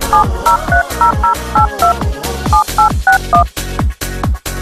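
Mobile number being keyed in on a telephone keypad, a rapid run of short DTMF beeps, loud and close, each press a distinct two-tone blip in an even rhythm.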